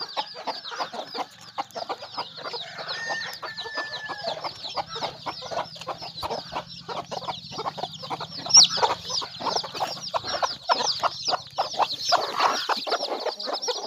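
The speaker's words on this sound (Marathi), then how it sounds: "असे पिल्ले निघलेले मित्रांनो आपले, बघू शकता. प्युअर गावरानमधले पिल्ले." A flock of native desi gavran hens and chicks on a farm cluck and peep continuously and densely, a busy, steady chorus of chirps and clucks throughout.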